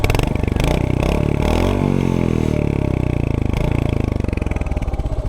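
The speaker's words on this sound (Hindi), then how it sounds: "इस बाइक का जो एग्जॉस्ट नोट है वो भी मुझे दूसरी बाइक से ज़्यादा अच्छा लगा था" A Royal Enfield Hunter 350 motorcycle's exhaust note, loud and close, revving up and back down with a steady engine throb and a rising-then-falling pitch, with no talk over it.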